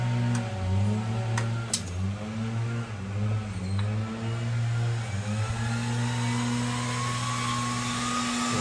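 Harley-Davidson Love Jugs cooling fans switched on, giving a steady electric whine with a few brief clicks and wavering tones at the start before settling into a constant hum.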